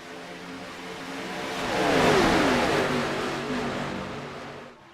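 A pack of race cars in a superspeedway series roars away at the green flag. The engines swell loud as they pass close, then fade as the field pulls into the distance.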